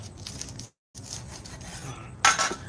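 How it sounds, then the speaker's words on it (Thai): Persian grass stalks are peeled by hand outdoors in front of a house, giving soft, close rasping and rubbing with a brief pause and a sharper scrape near the end. "นั่ง ปอกหญ้าอยู่หน้าบ้านเนี้ยเตรียมเอากลับลาว หญ้าเปอร์เซีย"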